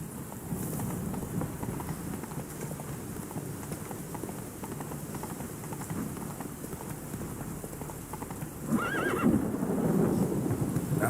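A horse gallops through the video game The Witcher 3, with rapid hoofbeats drumming continuously and a loud whinny breaking in near the end, a steady rumble of wind or rain beneath.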